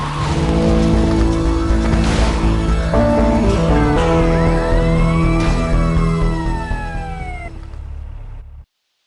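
A car in GTA Vice City roars along at close range with tires squealing and sirens wailing nearby; the loud engine and tire noise runs continuously, then cuts off abruptly.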